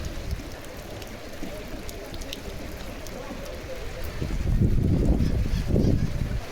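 Rain falls steadily in an area flooded with standing water, with a constant soft patter that grows heavier and closer in the final seconds.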